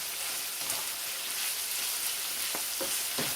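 Steakums sizzle and fry in butter in a stovetop pan, a steady dense crackle running throughout with a few sharper pops near the end, close and moderately loud with no talking.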